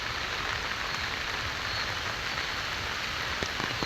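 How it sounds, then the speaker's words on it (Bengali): Steady rain patters on surfaces all around at Jinda Park near Dhaka, an even, close hiss with a few scattered drip taps and no talk. "দেখেন বৃষ্টি হচ্ছে"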